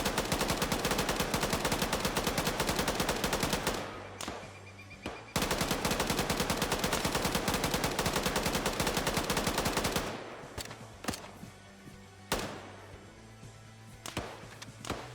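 Sustained automatic machine gun fire in the Arma 3 military shooter, a belt-fed weapon with a 100-round box, loud and close in long continuous strings, broken by short pauses and a few scattered bursts near the end.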